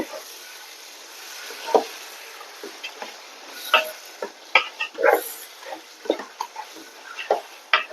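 Coriander leaves being mixed into beef biryani masala in a pan: scattered utensil clicks and scrapes against the metal over a faint, low sizzle, with irregular stirring strokes and no voices.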